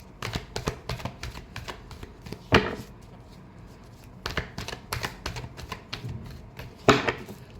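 Tarot cards are shuffled in quick riffling bursts, with crisp flutters and taps coming in clusters and two louder snaps standing out, all close up and with no voice over them.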